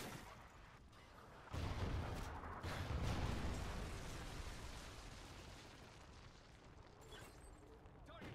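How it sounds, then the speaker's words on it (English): A Trinity rocket strike in Call of Duty Advanced Warfare lands with a deep rumbling explosion that swells suddenly and then slowly decays, following a quieter stretch of game ambience. "Friendly Trinity rocket inbound."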